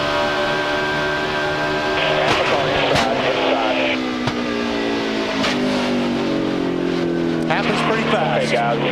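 On-board a NASCAR Cup race car at the 2005 UAW GM Quality 500 as the right front tire blows: a loud, sustained engine roar with shifting pitch, sharp transient bangs and rattles, and radio talk mixed in.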